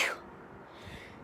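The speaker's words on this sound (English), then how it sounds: "Ooh, sneeze." A single sharp sneeze bursts out at the start, then fades into quiet room tone and soft breath.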